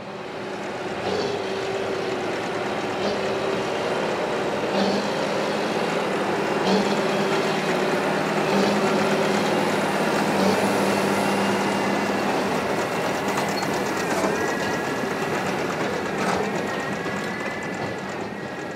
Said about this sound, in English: is being baled by baling contractors James and Nunn using a 270 horsepower John Deere 8420 and New Holland BB9090 baler.